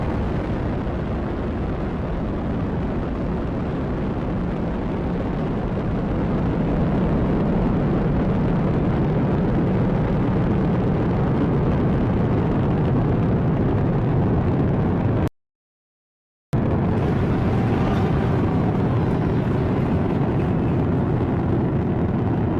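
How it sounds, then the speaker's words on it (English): A SpaceX Falcon 9 Block 5 rocket ignites and lifts off on a Crew Dragon demonstration mission, a sustained, heavy roar that swells and holds steady, broken by one brief dropout. "Ignition, liftoff."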